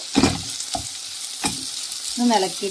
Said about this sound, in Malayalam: എന്നിട്ട് ഇനി എല്ലാം കൂടി ഒന്ന് കൂട്ടി ഇളക്കിയിട്ട്